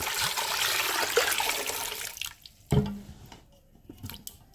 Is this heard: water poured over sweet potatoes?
yes